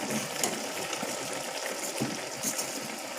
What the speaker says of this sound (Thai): หม้อเดือดแล้วนะคะ